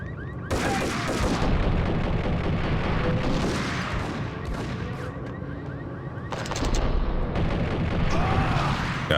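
Gunfire from the 2001 PC shooter Max Payne, dense bursts of shots and impacts packed together over a loud game soundtrack, with a brief lull before another heavy volley near the end.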